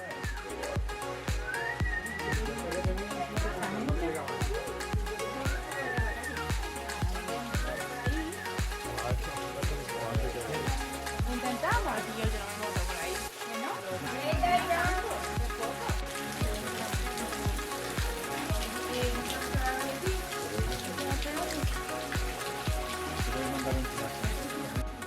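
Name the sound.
waterfall splashing in Quinta da Regaleira, Sintra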